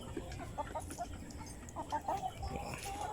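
Free-range chickens cluck and chatter in a backyard range, soft scattered calls overlapping at a moderate distance over a steady outdoor background, with no one speaking.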